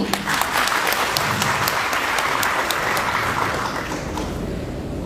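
An audience applauding steadily, a dense wash of many hands clapping at once that carries on without pause before easing slightly toward the end.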